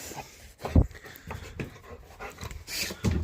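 A dog pants rapidly and unevenly close by, with short breathy huffs and a few snorts over a farm setting with an old woolshed.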